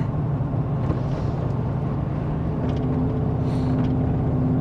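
Turbocharged Chevrolet Silverado pickup engine holding a steady, loud low rumble throughout, with a faint rising whine toward the end as it pulls from a dead stop.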